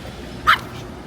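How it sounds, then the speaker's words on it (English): A single short, sharp puppy yip rings out close by, a quick bark in the middle of low, steady background rumble during an outing in Cape Town. "I got rudely interrupted by a puppy"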